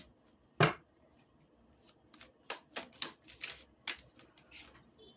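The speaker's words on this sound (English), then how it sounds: "I'm going to put new cards down." Tarot cards are shuffled and laid down close by, with a sharp snap followed by a quieter series of irregular flicks and soft taps.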